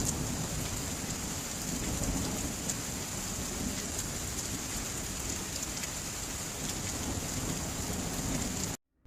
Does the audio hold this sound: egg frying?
no